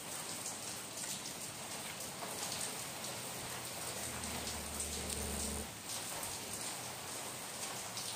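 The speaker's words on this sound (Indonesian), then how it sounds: "di sini hujan." Steady rain falls across the whole stretch, a dense even hiss of drops with no voices and a faint low rumble partway through.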